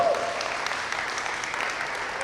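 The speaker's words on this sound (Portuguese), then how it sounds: "vamos aplaudir, que cidade maravilhosa" A church congregation in Londrina applauding together, a steady wash of clapping from a large crowd filling the room with no voices on top.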